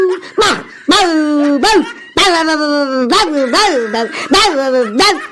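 Someone imitates a dog, letting out a string of loud, close barks and yelps in quick bursts with short gaps between them.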